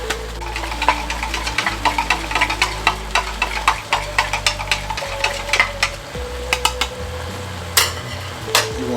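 Spaghetti seasoning being mixed with water, a spoon or whisk clinking and scraping against a container in quick, repeated strokes, close and clear with a low background hum and no talking.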